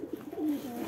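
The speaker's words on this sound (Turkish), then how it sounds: "Çıkartalım kuşları." A pigeon gives a short, soft cooing, close by, as the birds are let out in light rain.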